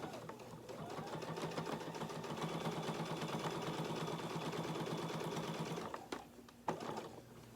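Quilting a quilt sandwich down the opposite seams, a sewing machine hums steadily and close for several seconds before stopping, followed by a couple of brief clicks and handling sounds.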